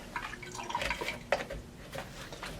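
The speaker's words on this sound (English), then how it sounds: "I am going to add the 68 degree water" Water at 68 degrees is poured into a measuring cup with film developer, giving splashy, gurgling liquid sounds with small drips and bursts over a little more than two seconds, close and fairly quiet.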